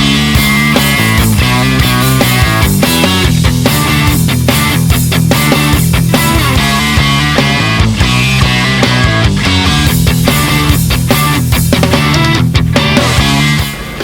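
Distorted electric guitar played through a Fryette Power Load with a Sound City cabinet impulse response, a dense, loud rock part with steady strummed chords and rhythmic palm-muted chugs running continuously without any voice.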